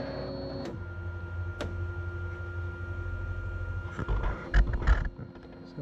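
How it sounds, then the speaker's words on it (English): A Flashforge Dreamer NX 3D printer prints ABS filament, with a steady mechanical hum and faint stepper whine, a couple of sharp ticks, and busier motor movement near the end. "it's printing out the blob removal line at the front of the bed, and then it's going to start printing the project"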